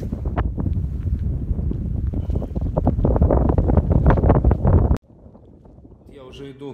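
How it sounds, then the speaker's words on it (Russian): Strong wind roars into the microphone out on open steppe with red sand near Mount Bolshoye Bogdo. The blowing is loud and buffeting, then suddenly drops to a quieter hiss, and a voice begins speaking faintly at the end. "дует сильный ветер в лицо"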